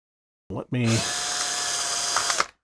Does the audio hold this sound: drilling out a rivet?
yes